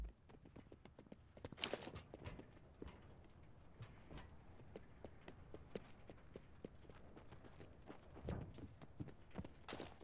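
Footsteps in a Call of Duty style shooter, a quick irregular patter of soft thumps running across the whole stretch, fairly faint with occasional louder bursts.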